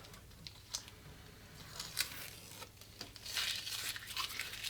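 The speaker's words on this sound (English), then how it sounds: "Now we can just remove the tape" Masking tape being peeled off a handmade Telecaster-style guitar body, soft tearing and crinkling strips in short bursts that grow into a longer rip at the end, close and quiet.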